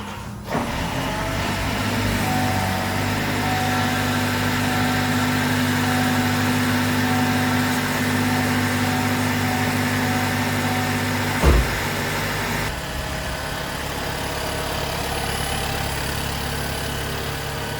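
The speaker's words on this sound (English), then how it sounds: "So let's fire it up and see how it runs." A 1.8L engine in a 2016-2019 Chevy Malibu Hybrid fires up and settles into a steady idle, a close, even hum with a brief clunk partway through and no talk.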